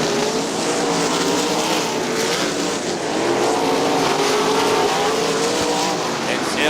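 Outlaw sprint cars race at Winston Motor Speedway in a Great Lakes Outlaw Sprint Series event, several engines droning loud and close throughout, with a commentator talking over the roar.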